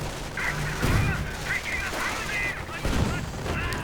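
MG-42 machine gun fire in a World War II strategy game battle, bursts thudding out at about 1 second and 3 seconds amid a dense din of distant combat, with faint background voices.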